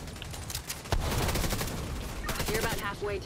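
Rapid turret gunfire in The Division 2, a dense, loud fusillade of shots running throughout with short bursts and no pauses.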